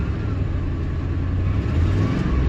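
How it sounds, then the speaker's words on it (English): A Ford F-150 engine idles steadily with an exhaust leak, a dense low rumble with a slight rise in intensity toward the end, close and loud with no talking. "Now the engine seems to be running pretty good now."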